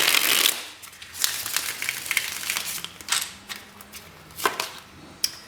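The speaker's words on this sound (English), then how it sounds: "One more shuffle." Tarot cards being shuffled at close range: a run of soft, papery riffles and taps, some gaps between bursts, with a sharper snap near the end and no talking.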